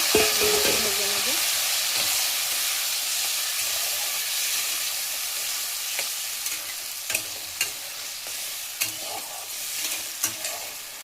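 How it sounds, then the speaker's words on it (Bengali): Peas and potatoes fry in hot oil in a pan, a loud, steady sizzle and hiss with repeated scraping stirs of a spatula. "দিয়ে দেব মটর আলুগুলো ভেজে নেব।"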